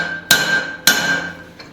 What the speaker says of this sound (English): I'm hammering the material around the drift from the back.